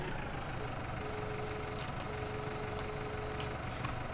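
Simulated John Deere 5085M tractor, about 80 horsepower, in Farming Simulator 2017, its engine running at a steady low idle-like drone with a faint whine, continuous and moderately close with a few light clicks on top.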